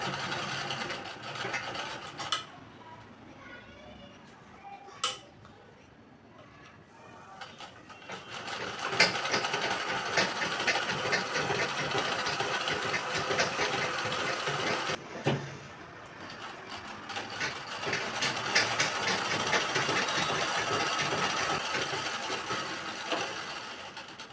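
A sewing machine stitches a pico fall onto a saree in long continuous runs, its steady mechanical whirr pausing briefly around the middle before carrying on loud and close, with no voices.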